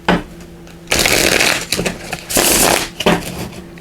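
Runic Tarot cards being shuffled close by, loud riffling bursts alternating with brief softer handling noises across a few seconds.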